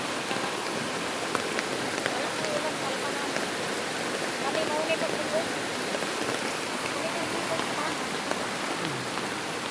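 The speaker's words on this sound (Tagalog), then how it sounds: "Pero hinay-hinay naman ang mga ulan guys." Heavy rain pours down steadily in a dense, even hiss of drops hitting surfaces, constant and close for the whole stretch without letting up.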